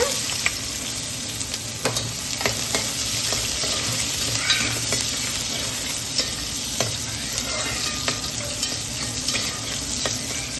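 Onions frying in hot oil in a pan with cinnamon and star anise, a steady close sizzle broken by frequent stirring scrapes and clicks, with no voices.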